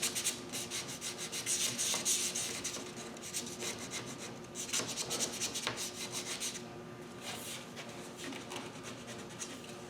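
Steady rubbing and rasping as a damp rag wipes across a wooden dishwasher panel, in repeated close strokes at a moderate, even level, with no talking.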